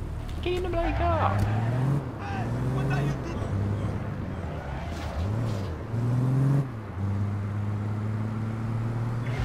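Car engine in APB Reloaded, revving and shifting through repeated rising pitch sweeps, loud and close, with people talking over it.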